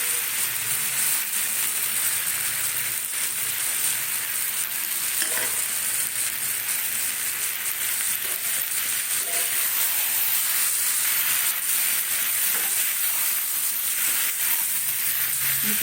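Mustard-poppy paste fries with vegetables in a pan for a bean-leaf dish, giving a loud, continuous hissing sizzle close by with faint stirring underneath and no talking.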